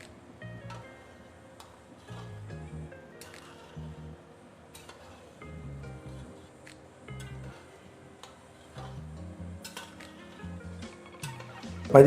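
A large pot of 30 kg of soaked rice for country-chicken biryani is stirred from the bottom, giving soft rhythmic scraping and occasional metallic clinks, quiet and close with no talk.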